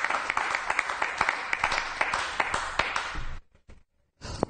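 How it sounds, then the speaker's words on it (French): Audience members applaud for two pastors, producing a steady patter of clapping with sharper individual claps standing out, fading into near silence before a brief final burst of clapping returns. "Est-ce qu'on peut applaudir pour les deux pasteurs?"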